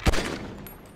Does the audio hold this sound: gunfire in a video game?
yes